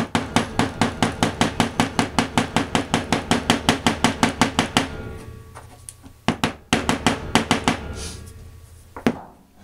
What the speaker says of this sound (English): you can slightly hammer it just on the sides